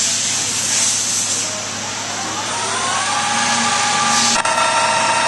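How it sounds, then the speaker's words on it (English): A four-square dynamometer driven by a variable frequency drive runs at about 750 RPM, a loud steady hiss and drone with tones that rise slowly, ending in a sharp click, no voices. "turn this machine on via the variable frequency drive here"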